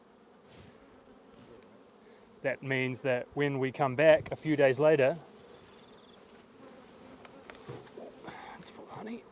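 Honeybees from a beehive give off a constant soft buzz that carries on under and after a man's speech during the honey harvest.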